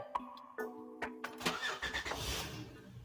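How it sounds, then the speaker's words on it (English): A 2006 Honda Odyssey van engine cranks in a few short bursts, then catches and settles into a steady idle right after a timing belt replacement, heard up close with no speech. "God dang, that thing started like a new engine, boy."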